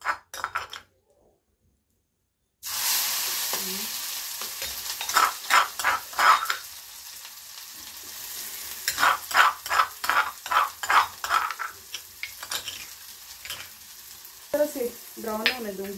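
Chopped onion hits hot oil in a kadai after a brief silence and sizzles loudly and steadily, broken by repeated clinks and scrapes of a stirring utensil against the pan, with no talking.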